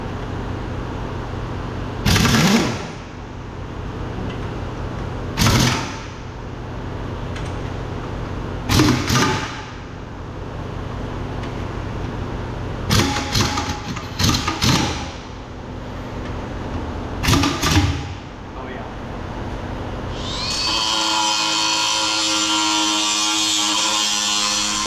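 Several short bursts from a 1-inch Ingersoll Rand impact wrench, nicknamed Big Bertha, hammering in a farm shop near an 8430 tractor, spaced a few seconds apart over a steady background hum, then a loud hiss at the end.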